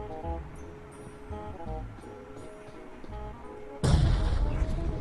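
A grenade goes off in a PUBG/BGMI match: after a stretch of low in-game ambience and faint tones, a sudden loud, broad boom erupts near the end and rumbles on through the final second.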